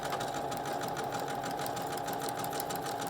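Sewing machine running steadily while back stitching fabric for a medical mask, a continuous close, even mechanical whir with no pauses.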